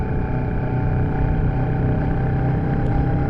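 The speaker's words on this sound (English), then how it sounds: "Nice pull from a 650cc parallel twin engine." A Royal Enfield Shotgun 650 parallel-twin motorcycle engine thrums steadily and loudly throughout, a deep, even drone with no voices over it.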